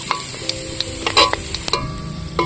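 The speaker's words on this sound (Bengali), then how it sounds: "নাড়িয়ে নেব।" Whole cumin and whole garam masala stirred in hot oil and ghee, a close sizzle with crackling pops and scraping spoon strokes, for Kashmiri rajma chawal.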